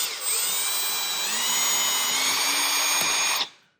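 Power drill bit boring through pine and oak inside a wall, a loud close steady whine lasting about three seconds before stopping abruptly, with no speech.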